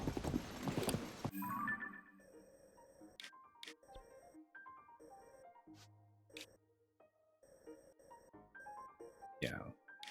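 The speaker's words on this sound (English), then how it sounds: "Be satisfied just going on a horse again." Horse hooves clip-clopping at a steady riding pace in The Legend of Zelda: Tears of the Kingdom, close and clear, with a neigh and sparse game chimes mixed in and some speech over the top.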